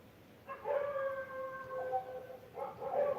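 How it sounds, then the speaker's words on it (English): Stray dogs outdoors howl in long, wavering tones, one sustained howl followed by another rising at the end, heard faintly from a distance over a quiet room. "you can hear the stray dogs outside, right?"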